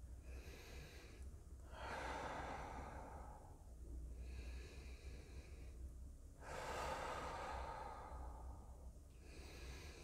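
Slow, continuous breathing during a body-relaxation exercise, each long inhale and exhale flowing into the next without pauses, soft and close with a low steady hum beneath, no talking.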